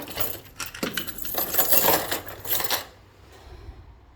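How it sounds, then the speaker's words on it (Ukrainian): A bunch of keys jangles and clinks close by in a workplace, bright metallic rattling for about three seconds before fading to quiet handling noise. "ключі треба заховати"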